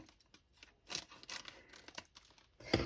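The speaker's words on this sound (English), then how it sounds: "So I want to apologise in advance for any rustling that you hear. It's part and parcel of the kitting up process." Close, faint rustling and crinkling of fabric and gear while kitting up, irregular scratchy bursts with a sharper crackle near the end.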